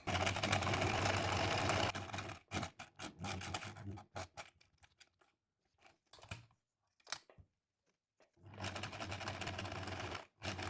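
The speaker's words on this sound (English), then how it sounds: "At the start and at the end, I'm of course doing a few back and forth stitches." A sewing machine stitches a blouse seam back and forth, running steadily and close for about two seconds, then stopping and starting again near the end after a quiet stretch of small handling noises.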